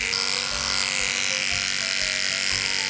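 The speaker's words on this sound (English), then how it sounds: "picking up our opposite leg and clipping the inside of the back leg that we're clipping." Electric clippers buzz steadily while trimming the inside of a dog's back leg around the hock during grooming. A constant close motor whine runs throughout, with faint low thumps as the blade moves through the coat.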